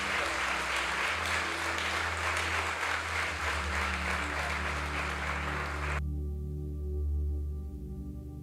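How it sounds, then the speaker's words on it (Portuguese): A church congregation applauds Pastor Mateus during a Sunday service, giving dense, steady clapping with a low sustained organ or keyboard tone underneath, then the clapping cuts off abruptly near the end while the music carries on alone. "Vamos aplaudir mais uma vez, pastor Mateus."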